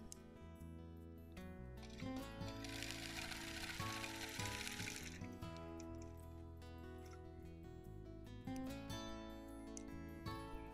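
Sewing machine quilting stitches on a mini quilt, a quiet rapid mechanical clatter with rhythmic ticking, running fairly steadily with brief pauses and a slight lift in intensity midway.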